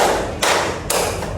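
A class of pupils claps together in unison during a classroom clapping game, landing sharp, loud group claps about half a second apart over a murmuring room.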